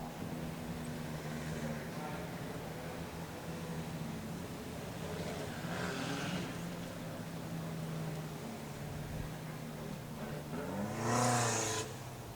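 Race cars from the Toyo Tires Schaeffler Racing Car Thailand 2021 race 4 pass through the S-curves at Bira Circuit. Engines drone under commentator talk, and one car rises in a brief louder pass near the end.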